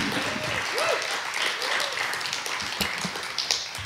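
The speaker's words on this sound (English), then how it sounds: "So I just wanted to give us a collective round of applause for Kwende and Tahir." A panel audience gives a round of applause after a talk on hip-hop and technology, a steady, moderate patter of many hands with a few voices and whoops rising over it.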